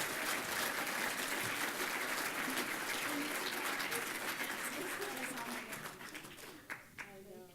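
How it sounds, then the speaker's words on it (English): Sustained clapping fills an awards banquet hall as an honoree is called up to receive an award, dense and steady, then thinning out near the end as a few voices and scattered claps remain. "a big round of applause"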